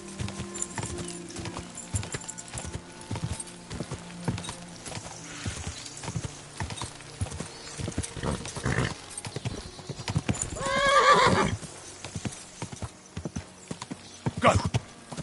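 Horse hooves clip-clop steadily in the video game KDC2, a rhythmic run of hoof strikes at moderate distance, with a brief whinny and some ambient background, no talk.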